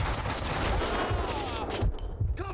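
Loud, dense bursts of rapid gunfire fill a shootout in the video game Max Payne 2, continuous and overlapping with no pauses.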